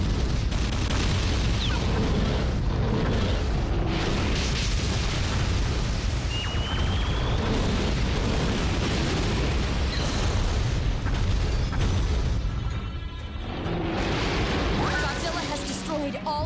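Explosions in a Godzilla video game as the monster destroys generators: a continuous loud roar of booms and blasts with occasional sharper pops, and a voice speaking over parts of it.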